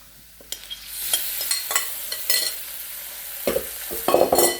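Beef for Mongolian beef goes into a hot pan, bringing soft sizzling and frying with a scatter of light scraping and stirring knocks that get louder toward the end.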